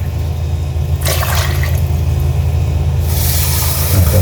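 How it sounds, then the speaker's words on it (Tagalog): Water poured into a cooking pot to boil sweet potato for tuna sinigang, a loud rushing splash in two bursts over a steady low background hum. "Kaya lalagyan muna natin ng tubig."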